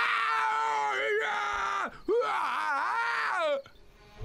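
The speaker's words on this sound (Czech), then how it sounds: "Johan ze spaní často divoce a ukrutně křičí." A cartoon character screams wildly in his sleep, two long, loud, wavering wails broken by a brief gasp, close and alone.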